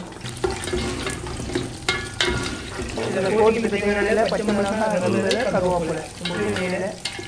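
Hot oil sizzles and crackles as green chillies fry in a pan, with stirring scrapes and a person talking over it.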